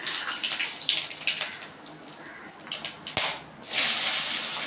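Mustard seeds crackling and popping in hot oil, then cinnamon and cloves added, giving uneven bursts of sizzle and spatter up close that swell into a loud, steady hiss near the end.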